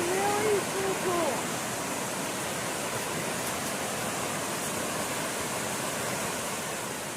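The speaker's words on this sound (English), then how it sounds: "this is the top of a second waterfall called Blue Hole" Cedar Creek Falls roars steadily nearby as a dense, unbroken hiss of falling water that stays loud and even throughout, with a brief faint tone near the start.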